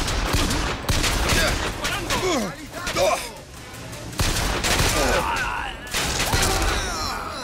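Bursts of rapid gunfire in the video game Bioshock Infinite, loud and close, in repeated volleys with brief gaps, a voice speaking in Spanish in between.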